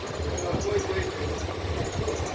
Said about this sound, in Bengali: ইঞ্জিন চালিত ছোট নৌকা আছে।